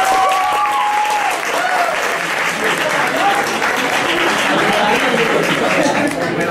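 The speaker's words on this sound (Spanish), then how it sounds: "Por favor, un fuerte aplauso." Loud, sustained applause from an audience at a science talk, thick even clapping with faint whistles or voices mixed in before the presenter begins.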